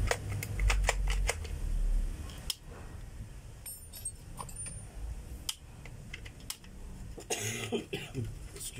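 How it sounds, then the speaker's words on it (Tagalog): A man coughs several times in short bursts during a motor repair and connecting rod teardown, with light clinking and handling noises in between. "Medyo inuubo po ako ngayon."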